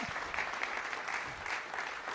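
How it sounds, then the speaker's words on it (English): Audience applause at a startup pitch night finale, a soft, steady wash of clapping heard from a distance. "A round of applause for the people who worked at Startup TNT before me, like Adrian."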